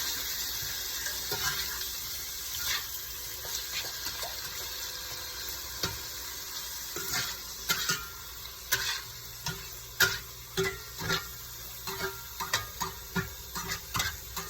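Shrimp and mixed vegetables in a stir-fry pan hiss softly under repeated stirring, with a spatula clacking and scraping in an irregular rhythm that grows busier toward the end.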